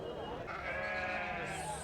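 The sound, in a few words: female sheep bleating at a sheep market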